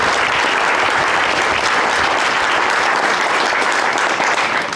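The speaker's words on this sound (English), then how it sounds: "can we get a big round of applause for our firemen who are still here, plus our police and all of our city officials" A large crowd at an outdoor Flag Day gathering claps steadily for firemen, police and city officials, a dense, loud wash of hands that holds for the whole stretch and eases slightly at the end.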